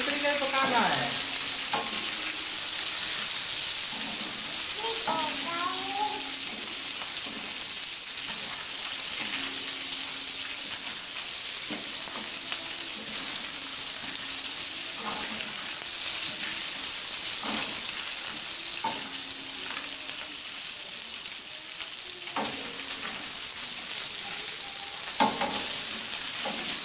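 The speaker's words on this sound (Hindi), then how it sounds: "हमारी तवा फिश फ्राई बिल्कुल तैयार होगी।" Fish frying on a tawa, a continuous loud sizzle of hot oil with periodic scraping strokes as the pieces are stirred and turned, all close and steady.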